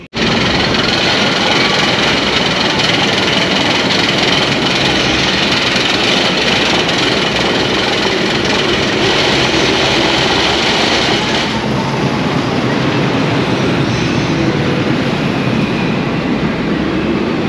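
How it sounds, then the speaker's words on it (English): Twin wooden dueling roller coaster trains race along their tracks at Efteling theme park in the Netherlands, a loud continuous roar and rattle of wheels on wood sustained throughout, without speech. "It's a dueling coaster, so there's two of them, and they get set off together"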